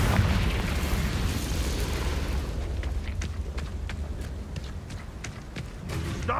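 Confringo spell blasts in the Hogwarts Legacy video game, a loud rumbling explosion with booming low end, followed by scattered sharp impacts and crackles as the blast dies away.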